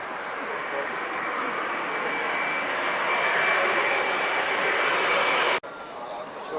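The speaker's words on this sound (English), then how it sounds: "That's the 2 Hercules aircraft, and they are coming in from the right to do their tactical" Two Hercules aircraft on tactical approach and landing at the 1996 International Air Tattoo airshow at Fairford, a steady broad roar of propeller engines holding level at moderate distance, then cutting off abruptly near the end.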